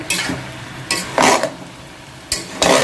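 Mixed vegetables being stirred and tossed in a pan on a gas stove, a spoon scraping in several separate bursts with quiet sizzling in between, close and fairly loud, with no talk.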